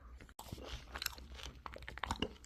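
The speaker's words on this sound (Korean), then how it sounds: "이 바삭바삭한 질감이 카다이프인가 봅니다" Close, crisp crunching and chewing of a chewy Dubai-style chocolate cookie filled with kadaif, a quick run of irregular crackly bites and mastication with no talk.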